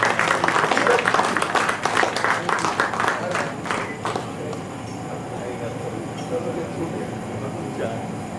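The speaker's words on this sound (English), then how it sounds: "Very big applause." Applause from a conference audience at a medical society event in Bihar claps strongly for about four seconds, then fades away into quiet room murmur and faint background chatter.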